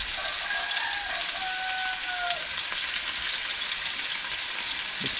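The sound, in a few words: mixing food in a pan, with salt added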